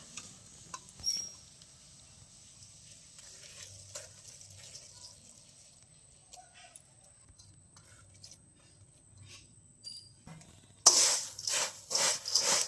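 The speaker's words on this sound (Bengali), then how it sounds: "এভাবে মিশিয়ে নেব অল্প অল্প করে মেশাতে হবে" Fried flattened rice (chira) is worked together with jaggery, giving soft, scattered scraping and rustling that swells into a louder, busier stretch of gritty stirring at the end.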